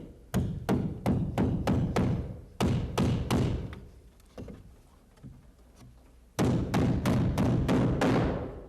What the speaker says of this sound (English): Then position it and nail it in.